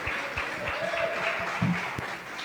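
An audience in a church clapping in a steady rhythmic beat, the claps moderately loud and evenly spaced over a background hum.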